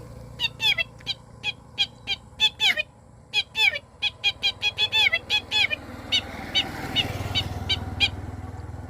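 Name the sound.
human voice imitating a lapwing call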